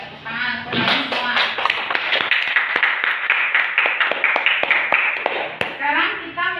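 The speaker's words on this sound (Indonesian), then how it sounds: "Ya, tepuk tangan untuk kalian semua." Students in an Indonesian religious education (PAI) classroom clap together for a few seconds, a dense patter of near hand claps with voices calling out over it before the clapping fades.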